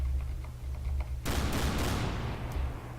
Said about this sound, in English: Let's just fire shells at it.